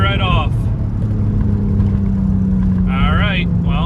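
Turbocharged BMW E39 wagon with an M54 engine idling roughly on a misfiring cylinder, a steady, uneven low drone close up, with brief bursts of talking over it at the start and end.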